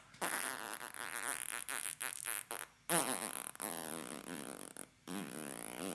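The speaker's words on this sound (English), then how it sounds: "That's a very stretched out fart, and I can only imagine it was musical to some like- degree" A very long, drawn-out fart buzzes on for about six seconds, its pitch wavering, broken by a few brief gaps before it keeps going, up close and alone.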